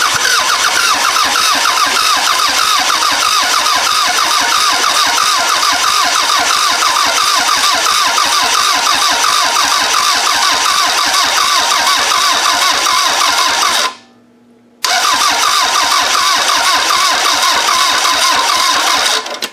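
A 2001 Toyota Camry engine fitted into a 1994 Camry wagon and running on a battery booster cranks and starts, then holds a loud, steady, rough drone close by, cutting out briefly for about a second near the end before resuming.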